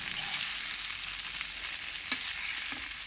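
Crushed garlic and masala frying for a dosakaya-cauliflower fry, a steady close sizzle with occasional soft stirring scrapes and light ticks.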